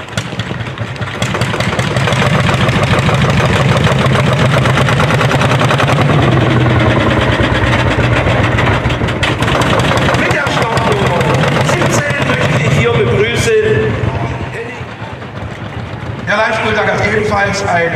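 Lanz Bulldog tractor engine, 25 hp, running at a harvest festival tractor parade in Strenzfeld, a steady loud engine drone with low pulsing throughout while a voice talks over it.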